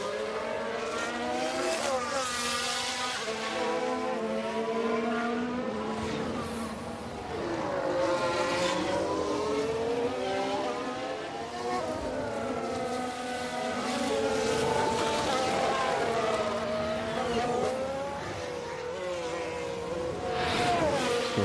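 Formula 1 race cars in the F1 Manager 23 video game whine past at the Hungaroring one after another, engine tones rising and falling in overlapping sweeps, steady and moderately loud with no talk.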